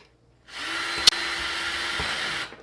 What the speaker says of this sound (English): we're going to drill through both of them.